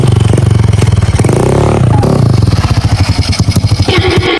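A motorcycle engine sputters and revs close by, loud and pulsing, its firing rhythm speeding up and slowing down across the stretch with a faint clatter over it.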